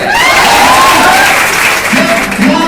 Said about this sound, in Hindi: ये तालियों की गड़गड़ाहट बता रही है